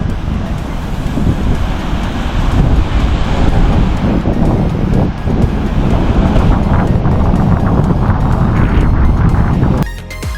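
Sea waves and wind on the shore along a rocky California coast near Pebble Beach, a loud, continuous broadband roar of surf and gusting wind buffeting the microphone, ending abruptly.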